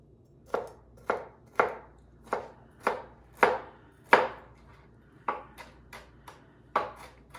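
A knife chops food on a board in about ten crisp, evenly spaced strikes, close by, with no talking.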